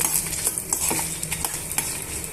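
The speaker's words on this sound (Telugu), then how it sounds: "ఇవన్నీ కూడా బాగా వేయించేసుకుందాము" Peanuts and dried red chillies frying in a pan while being stirred, soft sizzling with scattered clinks and scrapes of a utensil, close and continuous.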